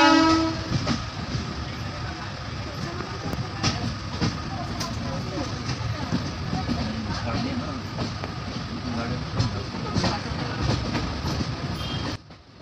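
An express train pulls out of Thane railway station on the Mumbai LTT to Gorakhpur run, with a steady rumbling roll, rhythmic wheel clatter and horn blasts heard nearby, continuous before cutting off abruptly at the end.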